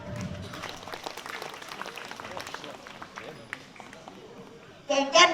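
Audience applause at a Balinese Calonarang performance at Setra Pura Dalem Suralaga, Tabanan: a steady, moderate patter of many hands clapping throughout, with a louder ringing strike near the end.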